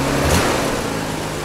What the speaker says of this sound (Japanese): アイドリングも不安定じゃない